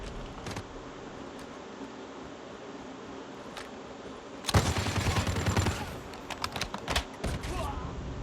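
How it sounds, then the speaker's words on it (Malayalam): A sniper rifle fires in Call of Duty Mobile: a sudden loud, close crack bursts out of quiet background noise, followed by a rattle of further sharp gunfire transients. "sniper shot"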